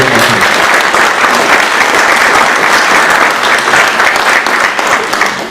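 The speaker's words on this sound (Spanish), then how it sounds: "les pediría que le demos un voto de aplauso" Loud, sustained applause greets a speaker from the Universidad Mayor de San Andrés at an academic seminar on government programs, many hands clapping in a full, even wash that tapers slightly at the end.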